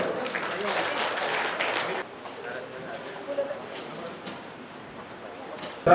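Applause from an audience at a Voters Day event honouring senior citizens, fairly loud for about two seconds, then it drops away to a quieter hall with scattered claps and murmuring voices.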